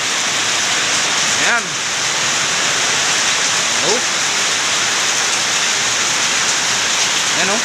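Heavy rain pours down steadily outdoors near a stairway where water is collecting, a loud, dense and continuous roar with brief exclamations from a voice over it.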